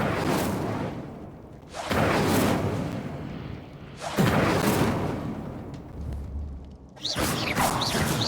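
Incendio fire spell cast in Hogwarts Legacy, a series of roaring whooshing bursts of flame, each swelling and fading, repeated about four times close and loud.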